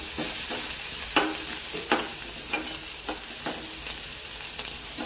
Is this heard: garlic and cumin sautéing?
yes